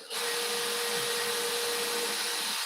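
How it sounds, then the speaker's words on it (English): Oscillating multi-tool cutting up a spar: a loud, steady, high-pitched buzzing whine that starts abruptly and holds evenly throughout at close range, with no voices. "cutting a spar up with a multi-tool"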